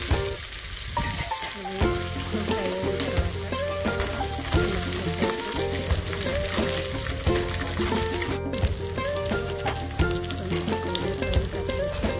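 A dry red chili frying in a tablespoon of hot ghee for dal, a steady close sizzle and crackle running throughout under background music.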